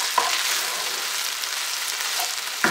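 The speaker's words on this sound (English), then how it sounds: "we're just going to sauté this for a minute or so" Beef stock with a stock cube sizzles steadily in a hot pan, a bright crackling hiss with a couple of sharp clicks from a utensil.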